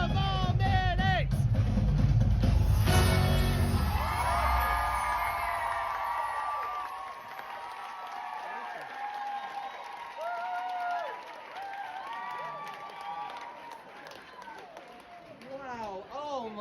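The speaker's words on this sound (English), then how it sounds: "That was a very lively crowd, everybody." A lively crowd at a West End singalong of SIX The Musical cheers, whoops and claps loudly, a dense roar that builds early and then slowly settles into scattered shouts and excited voices.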